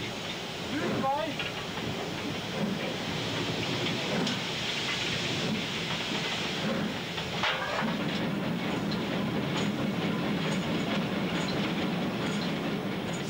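Rheingold passenger train hauled by two old locomotives rolling on rails, a steady broadband rumble and rattle of wheels and cars lasting throughout, fairly loud and continuous with brief squeaks.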